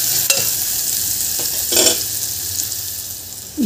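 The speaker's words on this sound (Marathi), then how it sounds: "आता कांदा घालून घ्यायचा आहे आणि कांदा आपल्याला हलकासा मऊ करून घ्यायचा आहे" Chopped onion stirred and softening in a pan for a ragi soup, a steady low sizzle with a few brief scraping stirs and a slightly louder burst of frying partway through.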